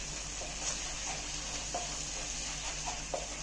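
Turmeric powder sautéing in a ground pepper kulambu paste, a soft, steady sizzle with occasional light stirring taps, quiet and close.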